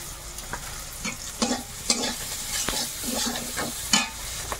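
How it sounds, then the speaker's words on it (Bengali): Potatoes frying in a pan with coriander and cumin powder, a steady close sizzle broken by irregular scraping stirs of a spatula, no voices. "একটু ভেজে নিয়েছি, এর মধ্যে একটু ধনে গুঁড়ো আর জিরে গুঁড়ো"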